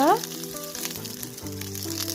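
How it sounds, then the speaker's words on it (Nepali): Garlic and dried red chilies sizzle and crackle in hot mustard oil, close and continuous, with tonal music playing underneath. "1 चम्चा तोरीको तेललाई मैले तताएँ र साथसाथै यसरी लसुनलाई राख्दैछु मैले, र रातो खुर्सानी पनि राखेँ"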